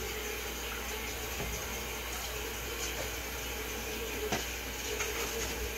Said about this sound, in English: I'm going to finish filling my water or my grape combination up first